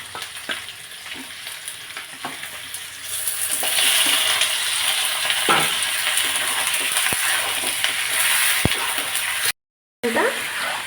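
Chicken frying in a pan starts as a quieter sizzle, then swells into a loud, steady fry after a few seconds, with occasional clinks and scrapes of stirring.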